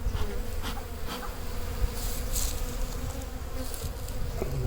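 Honeybees at an open beehive make a dense, steady buzz close by, swarming continuously with no voices over it.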